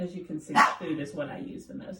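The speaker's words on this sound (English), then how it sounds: "And that's my dog barking." A pet dog barks indoors in a home teaching space, giving a short bark or two behind someone who keeps talking close to the microphone.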